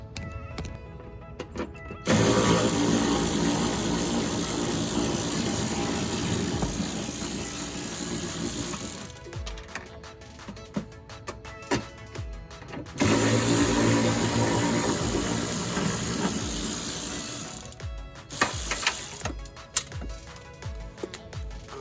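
A power ratchet loosens the fender well screws on an Audi 1.8T during a front bumper install, whirring loudly in two long runs of several seconds each, followed by a few short bursts, with quiet pauses between.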